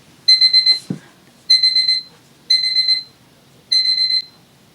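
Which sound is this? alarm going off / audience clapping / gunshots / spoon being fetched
alarm going off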